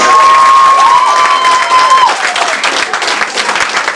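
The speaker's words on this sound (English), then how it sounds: "Give them a round of applause." Loud audience applause and cheering greet a youth performance group from Oakland, California at a community book club event, with a sustained whistle or shout over dense clapping that gradually thins out across the few seconds.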